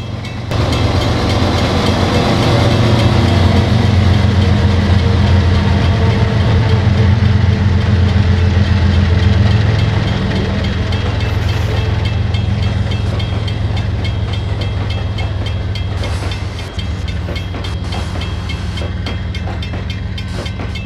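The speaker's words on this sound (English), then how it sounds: "As M122 passes, it runs off the main one and out of the path of an NS auto rack." A Norfolk Southern freight train, M122, rumbles past on the Gunnison District main line, a loud, steady low drone of engines and rolling cars that holds for the whole stretch with faint wheel clatter and no talk.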